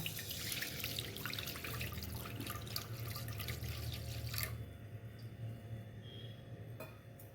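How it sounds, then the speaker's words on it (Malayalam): Horse gram cooking water pours into a pan in a home kitchen as a faint, steady trickle and splash for about four seconds, then tapers off into quiet with a couple of small knocks. "മുതിരയുടെ വെള്ളം ഒഴിക്കുകയാണ് കേട്ടോ"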